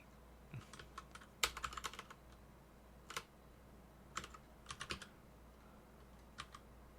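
Someone is typing on a computer keyboard in irregular bursts of quick clicks with short pauses between them, close and fairly quiet in an otherwise silent room.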